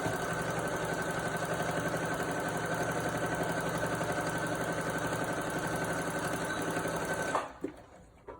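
A sewing machine hums steadily and loudly up close while sewing the rounded sides of a fabric mask, running continuously before stopping abruptly near the end, followed by faint handling noise.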